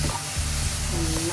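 Mushrooms sautéing in a pan for peri peri pasta, a loud, close, steady sizzle with brief stirring scrapes.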